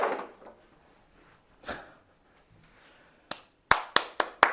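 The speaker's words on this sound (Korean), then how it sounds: "박수." A few sharp, close handclaps in a Korean math classroom, spaced out singly before quickening into a brisk run of four or five claps at the end, with faint room sounds in between and no talking.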